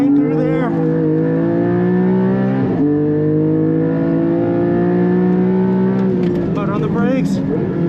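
Modded Porsche 718 GT4 accelerating hard on a racetrack, its engine note climbing steadily and loud with a brief dip at a shift, with a driver talking throughout.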